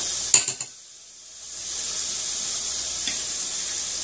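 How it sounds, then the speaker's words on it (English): A few clanks of a cast iron pan, a brief lull, then a steady loud sizzle of a turkey sausage patty frying in the hot pan. "Ooh, you hear the sizzle."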